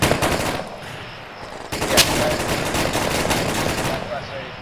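Enemy automatic gunfire in Arma III rattles in rapid, continuous bursts, loud and close, forming a dense firefight with a voice briefly calling out over it.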